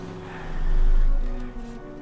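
A car in the L.A. Noire video game rounds a city block, its engine a steady low hum that swells to a peak midway and then eases back down, with no talk.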